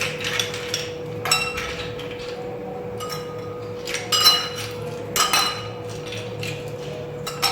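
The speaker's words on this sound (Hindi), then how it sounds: "ऐसे हम डालेंगे आइस।" Ice cubes dropping into a glass of betel leaf syrup, a scatter of separate clinks and clatters at close range against a steady background hum, with no talking.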